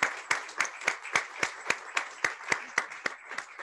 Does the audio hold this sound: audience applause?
yes